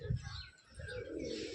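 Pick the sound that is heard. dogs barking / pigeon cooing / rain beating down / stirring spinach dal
pigeon cooing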